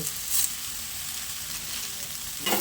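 Chopped spinach greens go into vegetables frying for a vegetarian ghonto, giving a steady, dense hiss of sizzling oil with brief louder bursts at the start and end.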